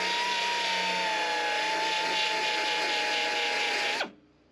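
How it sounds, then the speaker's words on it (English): Power sander grinding out spot welds on a metal truck body panel, a loud, close, steady high whine that runs continuously, then spins down and cuts off near the end. "I'm gonna try to sand these out real quick"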